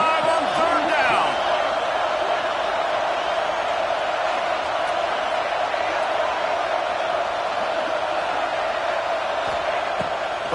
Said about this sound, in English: The Buckeye crowd alive on third down.